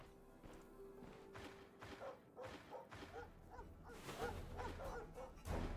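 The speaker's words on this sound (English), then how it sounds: "It's dogs. It's all dogs." Dogs barking in a Stoneshard dungeon, a series of short yips and barks repeating irregularly over a steady game background, growing louder and busier toward the end.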